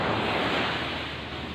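Sea waves washing onto a resort beach, a broad steady roar of surf with wind noise, loud and close, no voices.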